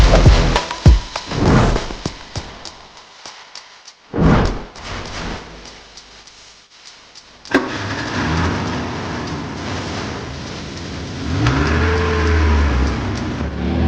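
A family car's engine revs in bursts, with thumps and a door-like slam early on, then a sustained engine drone building louder toward the end.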